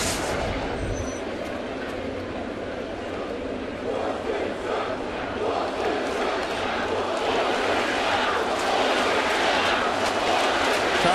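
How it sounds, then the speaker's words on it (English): A packed baseball stadium crowd roaring at a Red Sox at Yankees night game in October, a steady loud wash of cheering that swells slightly toward the end, with no clear talk over it. "Crowd seems like it's prime tonight. Louder than usual."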